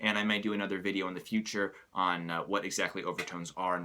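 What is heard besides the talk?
None of the usual background noises is heard.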